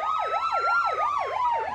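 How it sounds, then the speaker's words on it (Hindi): A wailing police siren sweeps rapidly up and down in a steady, repeating cycle, loud and fairly close. "उन्हें पुलिस की सायरन सुनाई देने लगती है"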